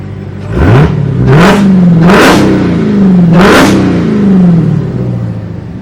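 Dodge Hellcat with a new aftermarket exhaust revving outside, four deep throaty rev blips climbing and falling in quick succession over a steady rumbling idle, loud and close.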